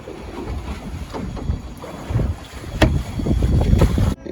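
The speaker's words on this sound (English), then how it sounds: "We're motoring along with the Torqeedo at about 1 kilowatt." A 3-4 tonne sailing boat motors into the wind on a Torqeedo electric motor at about 1 kilowatt, giving a steady rushing blend of wind buffeting and water wash, with some louder gusts toward the end.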